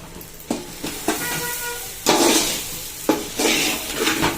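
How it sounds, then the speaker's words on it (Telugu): A spice mix of cumin, mustard seeds and fenugreek for gongura pickle is stirred in a pan, with repeated scraping strokes in uneven bursts over a hissing sizzle, close by and without voices. "ఇదంతా కలపాలి మిశ్రమం"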